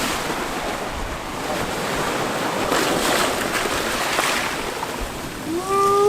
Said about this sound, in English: it's really just whitewashing all this water that comes in rushing